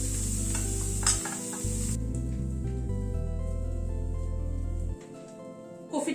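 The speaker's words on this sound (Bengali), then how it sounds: "ফুলকপিটাকে লাল করে ভেজে নিলাম" Cauliflower frying in hot mustard-region style oil in a kadai until reddish, a steady close sizzle with brief stirring scrapes, continuous and fairly loud before dropping quieter near the end.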